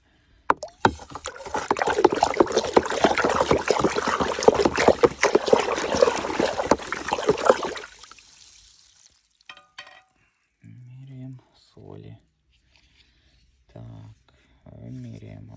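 Potassium monophosphate fertilizer solution being stirred in water in a bucket, a busy sloshing, scraping churn for about eight seconds that stops abruptly, followed by a voice talking in short bursts.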